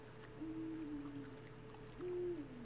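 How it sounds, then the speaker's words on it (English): An owl in the video game Endling gives two soft hoots, one long and one shorter, over a low ambient drone. The hoots sound moderately close and stand alone without any speech. "there's an owl here"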